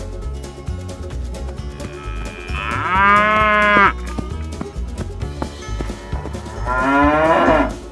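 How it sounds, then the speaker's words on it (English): A cow moos twice in an animal video game, each long lowing call loud and close over steady game music with a clopping beat. "Cow."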